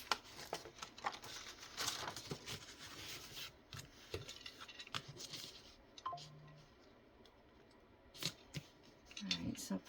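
Scissors snip through paper in short crisp cuts with soft rustling and handling between them, close and quiet, in a few scattered bursts with a pause partway through.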